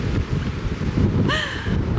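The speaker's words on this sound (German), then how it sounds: "es ist so windig" Strong wind on the Mallorca coast in February roars and buffets the microphone in a loud low rumble, with a brief whistling tone partway through.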